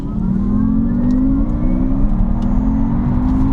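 An Alfa Romeo Junior Veloce in dynamic mode, 207 kW on 20-inch alloys, accelerates hard from inside the cabin, its engine note climbing steadily in pitch as it pulls strongly under a loud road rumble.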